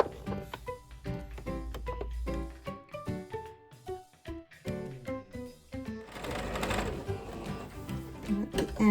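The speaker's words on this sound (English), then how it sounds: "start sewing the belt by sewing at the end to close it" Sewing machine stitching across the closed end of a gardening apron belt, running in short bursts of rapid stitching with brief pauses, close and steady, with a person talking over part of it.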